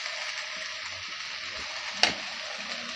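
Chopped onions fry in a pan for masala dosa filling, a steady soft sizzle with one brief clatter near the middle.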